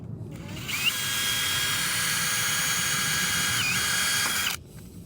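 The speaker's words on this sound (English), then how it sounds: "Hear the airplane?" An airplane passing overhead sends out a loud, sustained engine roar that starts abruptly, holds steady with a high whine, and cuts off near the end, heard near a playground.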